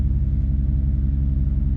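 Deep, steady rumble of a straight-piped V12 BMW 7 Series, a loud droning exhaust idling close by, with no voices over it.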